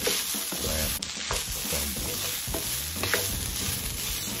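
Marinated vegan protein is stirred in a sizzling pan, with steady frying hiss and repeated scraping, clattering strokes of a utensil against the pan throughout.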